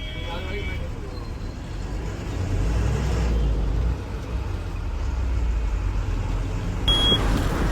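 A truck drives along a road, heard as a steady, loud engine and tyre rumble from inside that swells slightly midway and persists without a break.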